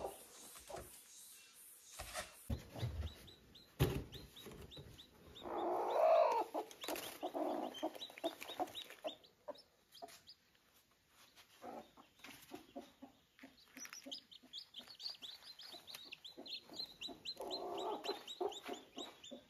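A hen clucks in short, repeated bursts beside newly hatched chicks peeping in a rural coop. The chicks chirp rapidly and continuously at close range, with louder clucking bursts scattered throughout.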